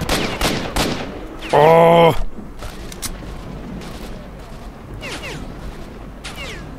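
Rapid gunfire bursts in the game S.T.A.L.K.E.R.: Shadow of Chernobyl, a few loud shots early, then a sustained mechanical burst and scattered later shots, with a brief exclamation from a voice.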